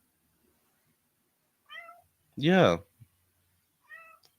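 A pet cat meows indoors, a couple of short close mews followed by one louder, drawn-out meow, with a brief spoken word and otherwise quiet room.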